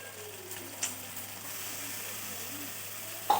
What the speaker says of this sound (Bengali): আদা রসুন পেস্টটা দিয়ে দিলে আদা রসুনটা ভালো করে ভেজে নিয়েছি।